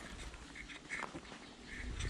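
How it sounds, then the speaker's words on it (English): Ducks quacking repeatedly at moderate distance around a pond along a hiking trail, short calls scattered over steady outdoor background noise. "He's chirping over there."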